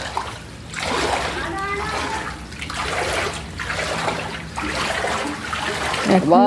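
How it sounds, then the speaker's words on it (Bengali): Footsteps wade through standing water, making rhythmic splashes about once a second, each one a close, sloshing burst, with a brief voice near the end. "সামনে অনেক জল আছে তো একেবারে উপর দিয়ে হেঁটে যাচ্ছে"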